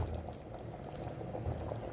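Brief, low gurgling rush of water poured into a cooking pot of vegetables, steady and fairly close, with no voices.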